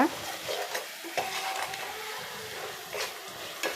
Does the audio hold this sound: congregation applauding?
no